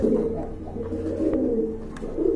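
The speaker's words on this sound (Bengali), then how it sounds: "আর ডিমে যে তাপ দিতেছে এটা হচ্ছে আপনার নট কবুতর" A pigeon sitting on its eggs coos in low, soft, repeated calls close by, with a few light rustles in between and no voices.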